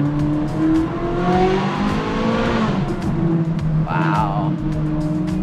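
A modded Ferrari 458 Italia sports car engine revving close by, loud sustained roar rising and falling with throttle blips and a sharp rev near the end, with some talk underneath.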